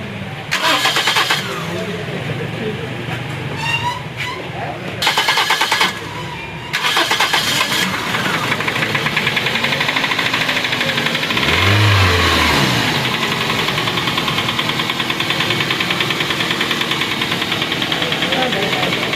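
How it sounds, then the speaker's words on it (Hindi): A Toyota Corolla Altis 1.6 engine, just refitted with spark plugs after its fuel injectors were removed, cranks in two short bursts with pauses. It then catches and settles into a loud, steady idle close by, with voices talking over it. "गाड़ी स्टार्ट हो गई है।"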